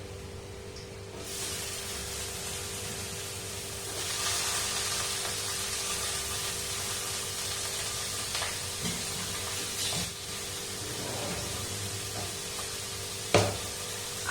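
Crushed garlic and boiled chicken fry in a pan with a steady, close sizzle and hiss, quieter at first and then fuller, with a few soft clinks of stirring near the end.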